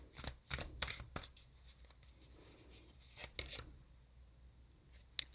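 Tarot cards being shuffled and drawn, quick papery riffles and flicks in short clusters with a pause between, close and quiet, ending in a single sharp card snap.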